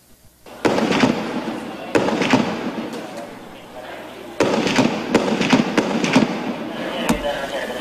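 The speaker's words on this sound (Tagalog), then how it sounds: "Ang pinuputukan ng armored vehicle ay ang pwesto ng mga nagtatagong sniper ng Maute Group sa Marawi City." Gunfire from an armored vehicle aimed at sniper positions during a military operation in Marawi City, with several loud sharp reports and crackling echoes rolling over a noisy outdoor background.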